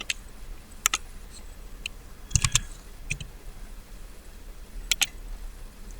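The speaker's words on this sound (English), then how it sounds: "I just show you by typing a letter in Hindi language." Keys on a computer keyboard clatter in short sparse clusters while a letter is typed in Hindi, close and fairly quiet, with no talking.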